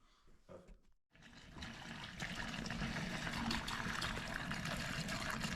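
Fuel pours steadily into the tank of a Ford Fiesta mk2 with a turbo Zetec engine, a continuous close splashing gush that starts after a brief pause and keeps running at an even level.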